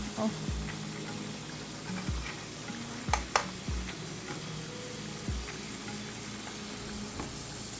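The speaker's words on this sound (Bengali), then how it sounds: "এটা দিয়ে এখন রুই মাছ রান্না করছি আর এদিকে আমার বাজার জিরা শেষ জিরাটাও ভেজে নিচ্ছি" Rohu fish frying in one pan while cumin seeds dry-roast in another make a low, steady sizzle, with a utensil tapping and scraping the pan every second or so close by.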